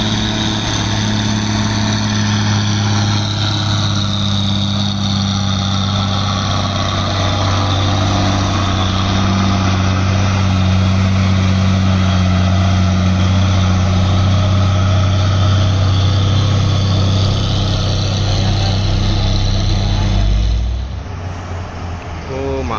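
Old Indonesian heavy trailer truck labouring up a steep hill, its diesel engine droning loud and steady with strong low rumble for about twenty seconds before easing off.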